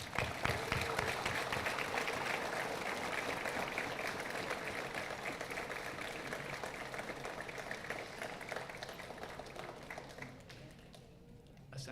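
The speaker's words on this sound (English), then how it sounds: "join me in a quick round of applause for everyone that has" A graduating high school class of 2024 applauds at their ceremony, a broad, sustained crowd clapping that fills a large room for about ten seconds before tapering off near the end.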